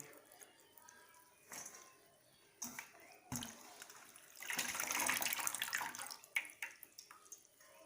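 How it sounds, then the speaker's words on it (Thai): Enoki mushrooms being rinsed under running tap water for a Thai Shan-style steamed mushroom curry, with splashing and trickling that swells into a steadier gush in the middle, interrupted by clinks and handling noises. "ต้องล้างน้ำก่อน ล้างน้ำก่อน"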